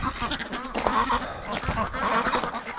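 Breeding ducks in a backyard pen keep up a busy, overlapping chorus of honking, raspy calls, several birds at once at close range, continuous and fairly loud throughout.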